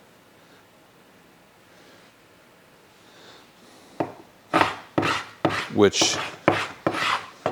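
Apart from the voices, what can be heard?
scraper with carbide blade scraping wood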